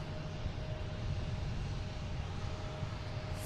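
A JetBlue Airbus A220 takes off at Boston Logan, giving a steady, fairly distant broadband engine roar with a low rumble that holds evenly throughout.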